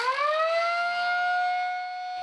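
An old alarm siren guarding a rural house in the village of Gradeshnitsa gives a single rising wail that climbs quickly and then holds a steady, loud tone before easing off, with no talking.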